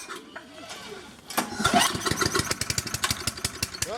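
A choked generator engine cold-starts after a brief cranking attempt, catching at about a second and a half and settling into a loud, fast, rhythmic chugging idle close by.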